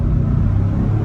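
A 2022 Ford Expedition XLT full-size SUV accelerating hard, a loud low engine rumble heard close up in a brief burst.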